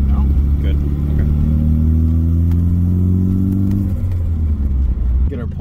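BMW E30 engine running as the car drives, a steady low drone that rises in pitch, then settles back down, with people talking over it.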